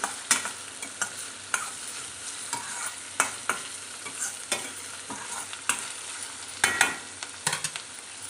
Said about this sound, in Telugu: మధ్య మధ్యలో కలుపుకుంటూ ఉండండి లేకపోతే కింద ఆనియన్స్ మాడిపోయి పైన అలా ఉండిపోతాయి అనమాట